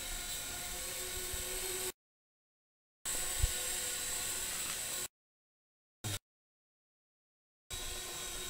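A GoolRC T37 quadcopter drone whines with a steady high-pitched buzz of spinning rotors, heard in several separate stretches broken by sudden silences.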